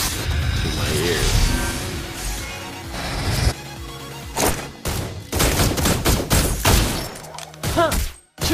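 Rapid bursts of gunfire from a hero in the Mobile Legends video game, mixed with whooshes, impacts and music-like game effects, loud and dense with short pauses between volleys.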